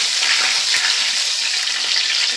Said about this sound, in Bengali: দিয়ে দিচ্ছি একটা তেজপাতা, আর দিয়ে দিচ্ছি খানিকটা কসুরি মেথি।